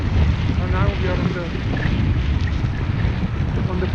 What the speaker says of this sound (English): So it's pretty windy, not really cold.